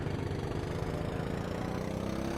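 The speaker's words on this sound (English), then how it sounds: "It's very familiar with the 4-stroke Honda engine essentially." A kart's 4-stroke Honda engine in the Automobilista 2 racing game drones steadily, a buzzy mid-pitched motor note with a faint rising whine above it.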